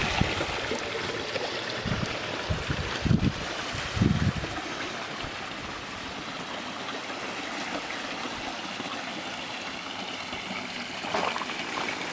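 A granite ball water feature in a landscaped Wicklow garden trickles steadily throughout, a continuous broadband wash of running water with a few brief louder knocks early on.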